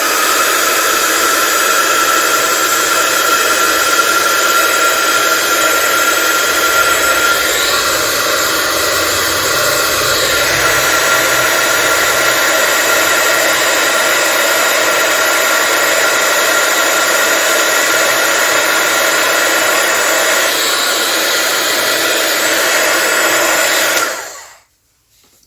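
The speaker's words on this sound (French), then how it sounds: "Le pistolet à chaleur" A heat gun blows hot air in a steady, loud, close whoosh that runs almost unbroken for about twenty-four seconds before switching off abruptly.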